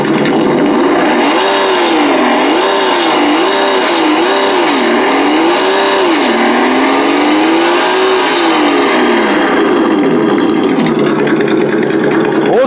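A 1/8-scale CROSS RC EMO X Trail crawler truck drives in second gear on a 4S battery, giving a close, loud electric motor whine whose pitch rises and falls in waves as throttle changes, with gear hum underneath.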